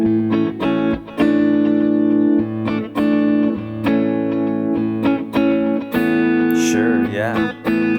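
An electric guitar run through effects and distortion plays a sustained one-chord progression. Strummed chords ring loud and thick in a steady rhythm, and a brief spoken word is heard under the playing.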